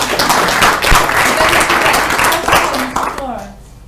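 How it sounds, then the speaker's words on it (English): Applause from a meeting audience at a climate research presentation, close scattered clapping that fades out, with a voice speaking over it. "I'll clap."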